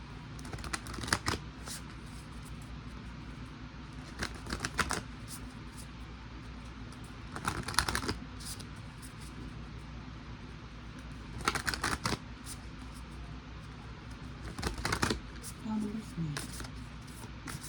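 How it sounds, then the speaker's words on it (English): Brisk card shuffles come in short riffling bursts every few seconds, fairly close, with steady low background noise in between. "we're going to open up this deck and shuffle out a card"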